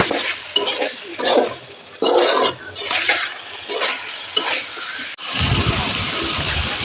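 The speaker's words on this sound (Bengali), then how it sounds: "কেটে রাখা আলু ও বেগুন দিয়ে দেব। ভালোভাবে নেড়ে মশলার সাথে মিশিয়ে নেব।" Potatoes and eggplant being stirred into spices in a pan for a hilsa fish curry: uneven bursts of scraping and clinking, then a steady, washing sizzle near the end.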